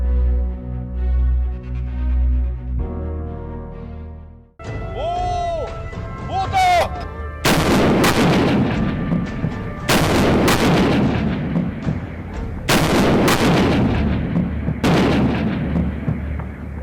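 A 130 mm artillery cannon fires during military training drills: four loud, booming blasts spaced a few seconds apart, each with a long rumbling tail, after quieter opening sounds.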